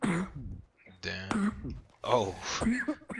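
Coughing and throat clearing picked up on a gaming voice chat, a few short rough bursts with brief pauses between them, close to the microphone.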